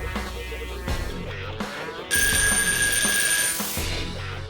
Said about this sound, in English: I went ahead and set my timer for 30 minutes.